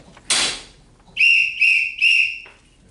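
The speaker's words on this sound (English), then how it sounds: "police whistles blow" Radio-play police whistles follow a short noisy burst, with three shrill, sustained whistle blasts in quick succession, close and fairly loud against a quiet background, with no voices.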